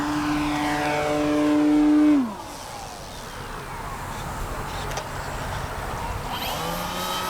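An Avios Grand Tundra V2 radio-controlled airplane drones overhead with a steady propeller whine that drops sharply in pitch as the throttle is cut, leaving a softer whirr and light wind hiss, heard from a distance without talk.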